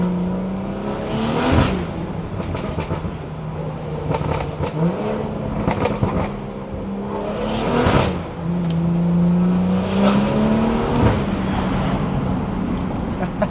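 A BMW B58 car engine roars and revs repeatedly, pitch rising and falling, with heavy wind noise buffeting the microphone throughout.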